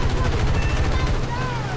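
Gunfire in the War Thunder combat game, a dense, steady burst of rapid automatic shots rattling loudly and continuously throughout.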